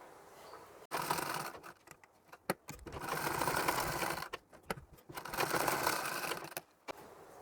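A sewing machine stitches a blouse strip in two long, steady runs of rapid whirring, broken by short pauses and a few sharp clicks.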